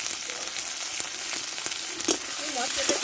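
Spices with salt, turmeric and tomato frying in a pan for a pumpkin vegetable curry, a constant close sizzle with occasional stirring scrapes and a voice speaking briefly near the end.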